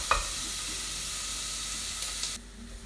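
Onions cook low and slow in a pan, giving a steady soft sizzle and hiss that runs evenly throughout before dropping away near the end.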